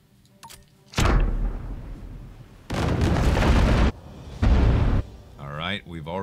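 A ship's mortar fires and explodes in the video game Abandon Ship, producing three loud, heavy blasts separated by short pauses, followed by a brief voice near the end.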